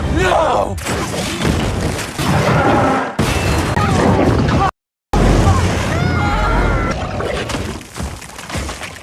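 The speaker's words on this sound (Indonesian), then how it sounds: "Jenderal sendiri bertindak tanpa pertimbangan ketika ia akan menembakkan roket launcher" A rocket launcher fires and explodes in an action film scene, with loud booms, crashes and shattering debris sounding in heavy bursts, a brief silent gap, and a voice talking over much of it.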